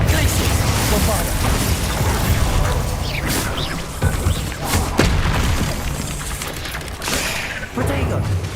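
Spell effects from Hogwarts Legacy, the Bombarda blast among them, rumble and burst in a dense barrage of booms and pops, loud and close, as a player calls out several spell names over the combat noise.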